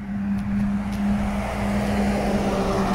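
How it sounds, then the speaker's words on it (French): Cars on a street produce a steady, moderately loud traffic rumble and a low hum that stay even for a few seconds, with no voices. "Ah, les voitures."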